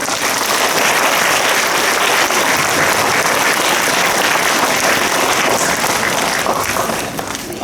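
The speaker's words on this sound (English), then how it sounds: "Let's give a big round of applause" Dense, loud round of applause fills a school sports assembly hall, steady crowd clapping that holds without a break and tapers slightly at the end.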